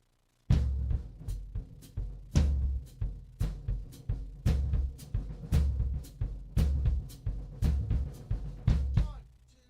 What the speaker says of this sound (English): they play it usually with a big mallet,